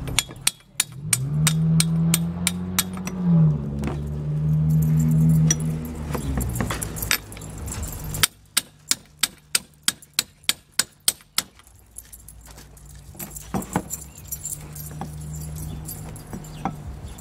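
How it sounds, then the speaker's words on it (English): Metallic tapping with a socket to seat a part flat during power steering pump and belt work on a 1996 Toyota Corolla: loud, close, sharp taps in rapid bursts, with a humming tone in between. "So put a socket on here and just kind of tap it down."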